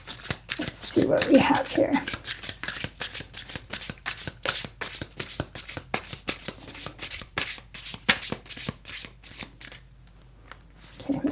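Tarot cards are shuffled rapidly and rhythmically, producing a long run of crisp, closely spaced riffling snaps up close. A voice speaks briefly near the start, and the shuffling pauses for a moment near the end.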